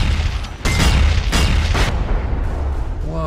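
Explosions in the Alan Wake video game, with repeated deep booms and bursts over a constant loud rumble, dense and close.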